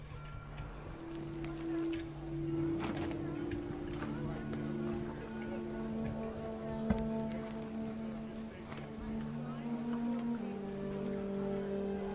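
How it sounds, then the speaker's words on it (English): Steady heavy rain in the video game What Remains of Edith Finch hisses continuously beneath sustained musical tones, with an occasional faint tap, at a fairly low level throughout. "The rain came down in buckets then"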